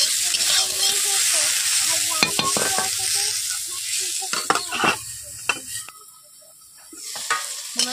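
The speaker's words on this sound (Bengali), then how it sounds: "ঢেঁড়সগুলোকে আমি ভেজে নিচ্ছি" Salted okra fries in hot oil, crackling and sizzling steadily up close while a utensil stirs and scrapes through it. The spatter thins out near the end, and a faint voice is briefly audible.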